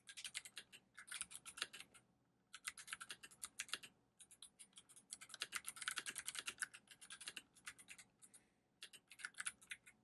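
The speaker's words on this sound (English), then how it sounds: "Let me try typing on this." Brisk clacking keystrokes on an Fl-esports FL980 mechanical keyboard come in quick bursts with short gaps, close and fairly quiet, with no talking.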